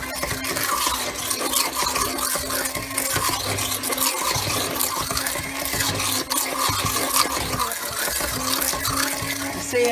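A small whisk stirs calendula ointment in a bowl, making a continuous wet, swishing churn with a steady rhythm and no pauses, heard close and fairly loud.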